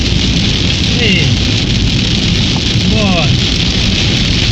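Intense rain with wind and hail pounding a vehicle on a Brazilian highway in a dangerous storm, a constant heavy roar throughout with faint engine tones underneath.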